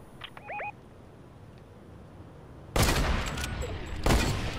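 Gunfire in the Fortnite video game Winterfest update: after a quiet stretch with a couple of short chirpy tones, loud bursts of shots erupt, one sustained volley followed by another later, close and harsh.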